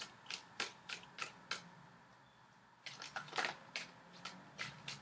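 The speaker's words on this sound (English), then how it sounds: "So I'm shuffling for your outcome card." Brisk riffles of tarot cards being shuffled, two bursts of quick crisp flicks separated by a short pause, close and fairly quiet.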